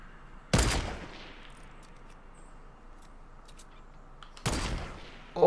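Two loud, sharp gunshot blasts in a Fortnite: Battle Royale match, spaced about four seconds apart, each with a brief ringing tail over low game ambience.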